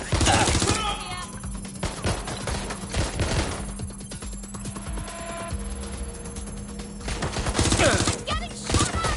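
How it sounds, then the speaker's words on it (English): Video game gunfire in Watch Dogs: Legion comes as loud, rapid bursts of automatic shots, some dense fusillades and scattered single cracks, with brief lulls between volleys and a voice talking underneath. "Getting shot at!"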